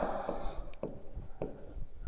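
Marker or chalk scratching across a classroom board in short strokes, close and fairly clear, with a few taps as the tip lands while writing out a physics explanation.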